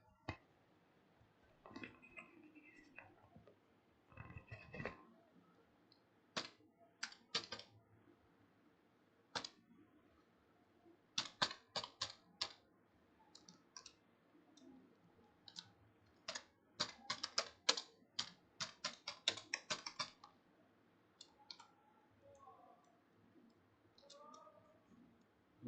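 Keys clack on a computer keyboard while a short Python program is typed, coming in irregular bursts of quick taps with brief pauses between them, close and fairly soft with no talking.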